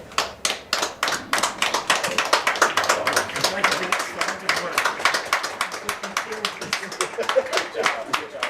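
A crowd at a high school football senior night at Frary Field claps steadily for the senior Tigers and their parents, dense and sustained applause throughout with individual sharp claps standing out near the front.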